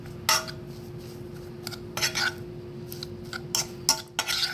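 A masher working boiled, skin-on potatoes in a metal pot, giving several sharp clanks and scrapes against the pot over a steady low hum.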